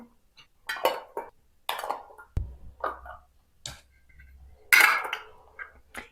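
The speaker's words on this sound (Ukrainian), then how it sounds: "Накриваю їх кришками металевими." Metal lids clink and clatter onto glass jars of marinated peppers in a home kitchen, a handful of sharp, close metallic taps and rattles spaced irregularly with quiet gaps between.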